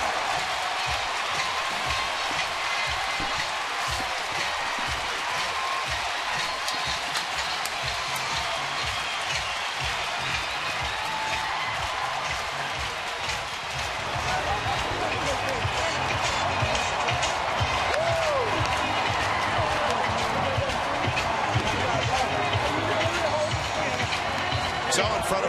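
A sellout stadium crowd roars continuously at an Oakland A's home game after a walk-off win over the Red Sox, the loud broadband cheering sustained throughout with claps and shouts mixed in.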